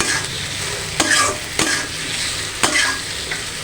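Shrimp frying for shrimp do-peyaza in a hot pan, a steady oily sizzle broken by several loud scraping stirs of a spatula, close and alone with no talk.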